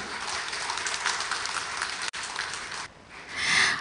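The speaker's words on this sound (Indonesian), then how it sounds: "Boleh beri tepuk tangan untuk kita semua." An audience at a debate between candidates for regent and vice regent of Lampung Selatan regency claps in a steady patter, briefly cutting out midway and then swelling again near the end.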